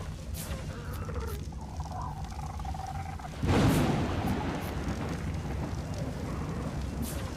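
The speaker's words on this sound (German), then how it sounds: "Das Gewitter" Thunder from a storm in the video game Ark Survival Evolved Scorched Earth crashes in about halfway through, a loud low rumble that swells and lingers over steady rain-like noise, with no talking.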